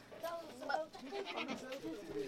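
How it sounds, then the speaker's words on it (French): Goats at a Moroccan farm stop bleat in short wavering calls over a steady background with voices mixed in. "faire la rencontre de ses chèvres"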